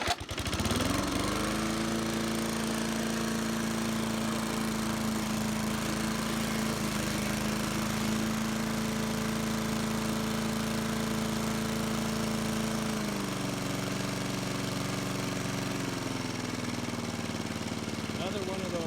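A 1980 LawnFlite push mower with a vertical pull start fires up and runs at a steady, loud drone, then the engine note drops slightly partway through and keeps running, with faint talk in the background.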